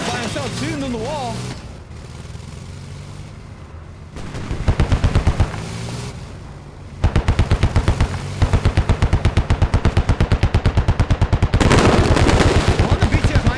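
Gunfire in the video game Squad from BTR and Stryker vehicles shooting at a wall sounds as dense, rapid, loud automatic bursts, with a stretch of close repeated shots after a quieter opening.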